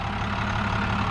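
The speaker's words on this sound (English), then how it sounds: "Runs good. It's a DT-466 turbocharged." A turbocharged International DT-466 diesel in a 2003 ambulance idles steadily, a continuous low rumble with no voices over it.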